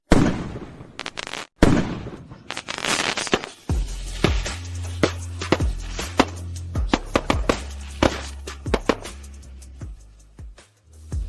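Fireworks put on as a surprise show, with a few loud bursts early and then a long run of rapid crackling pops and booms, close and continuous.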